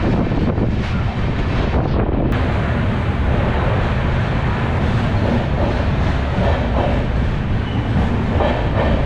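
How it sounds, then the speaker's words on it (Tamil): The Chennai–Mangalore Super Fast express (train 12685) runs at cruising speed past Katpadi in rainy weather, a loud continuous rumble of rolling wheels with heavy wind buffeting the microphone throughout. "காட்பாடி தாண்டி இப்போ பார்த்தீங்கன்னா ட்ரெயின் ஆவரேஜ் ஸ்பீடில் தாங்க போயிட்டுருக்கு"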